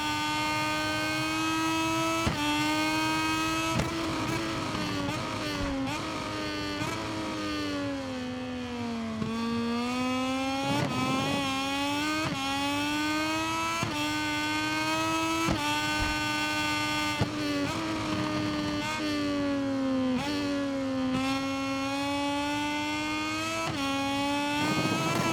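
A Moto2 racing motorcycle engine in GP23 screams at high revs, with its pitch dropping and climbing again as gears shift, loud and continuous, at Austria.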